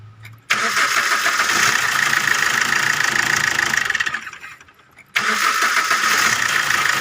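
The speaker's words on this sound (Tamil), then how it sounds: "இன்னொரு வாட்டி உங்களுக்கு ஆஃப் பண்ணி ஸ்டார்ட் பண்ணி காட்டுறேன்." A Maruti Ritz diesel car with a fuel pump problem cranks and catches into a loud, steady running rumble, is switched off, then fires up again abruptly, heard up close with no talking.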